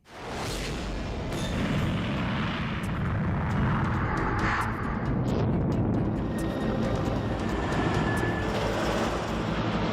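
Indian Air Force fighter jets roaring over Ladakh near the border with China: a continuous loud, broad rumbling roar that swells in and stays steady throughout, with no talk.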